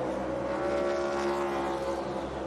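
Onboard sound from a NASCAR race car at the Indy Road Course during corner-entry contact, a steady, loud engine drone with a sustained tone and no distinct impact, no voices.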